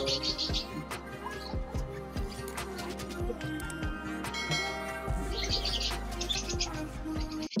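Many caged breeder birds chirp and tweet continuously in a dense, close chorus of overlapping calls, with no talking.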